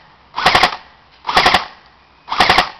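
An airsoft gun fires three quick three-round bursts, each a tight rapid cluster of sharp pops, loud and close, separated by about a second of quiet.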